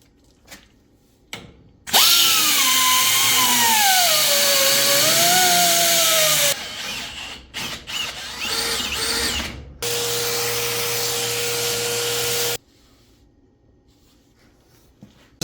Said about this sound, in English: I'm actually going to take the rotary file and open up the hole a little bit at the top to make it closer to the bottom hole